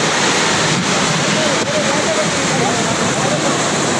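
Surf at Palolem beach in Goa rushes in a loud, unbroken roar of waves washing ashore, close and steady throughout.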